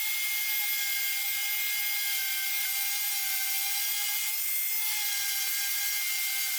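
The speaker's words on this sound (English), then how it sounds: "I'm going to sand the face of this and just the edges which the paint is spilled over" A sander works on the painted face of a wooden house number sign, making a steady, thin, high-pitched whirring hiss that runs continuously at an even level.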